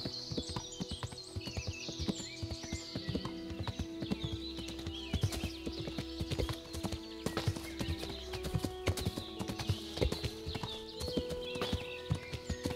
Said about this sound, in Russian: Давай, лошадка.